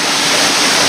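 The Curug Nangka waterfall roars as a loud, steady, broadband wash of falling water, close and continuous without pause or voices.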